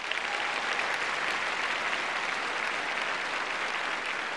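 Steady, dense audience applause fills a large hall at a televised 1973 beauty pageant, loud and continuous throughout with no break.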